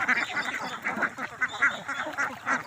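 A flock of domestic ducks raised on a farm, quacking repeatedly in an overlapping, busy chorus, close and continuous with no talk.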